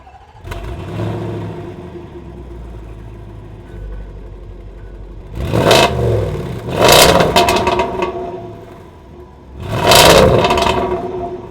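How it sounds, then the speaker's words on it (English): A 2020 Range Rover SVR's 5-liter V8 starts, then settles into a low idle. Three loud revving surges rise and fall over the idle, close to the listener. "I'll show you guys like a little clip of what it actually sounds like turning on right here"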